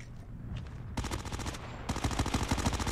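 MX9 submachine gun firing in a shooter video game: a few faint shots, then two loud, rapid full-auto bursts of closely spaced cracks that fill most of the moment.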